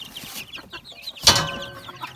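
Chicks chirp and cheep in quick high notes close by in a cage, with one louder squawk from a hen partway through.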